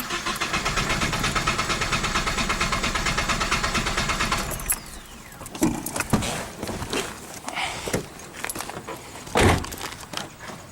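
A four-cylinder car engine cranks with the injection unplugged, clutch in and throttle wide open, a loud rhythmic churning drone for several seconds that cuts off, followed by scattered clunks and handling noises.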